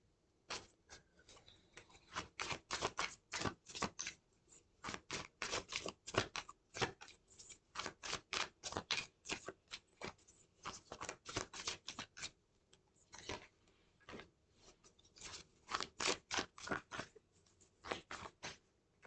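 Tarot cards from the Watcher Angel deck being shuffled and pulled, a close, quiet run of rapid papery flicks and snaps in irregular bursts, with no talking.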